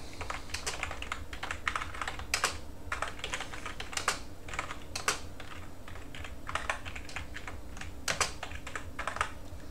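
Typing on an Amstrad CPC computer keyboard with a QWERTY layout, a steady run of close, crisp key clicks with irregular rhythm and no talking.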